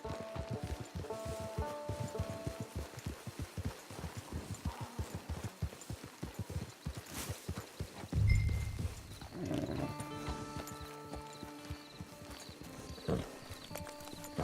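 A horse ridden in Red Dead Redemption 2 gives a steady, rhythmic clip-clop of hooves at a brisk pace, with a snort and brief whinny partway through, fairly quiet overall.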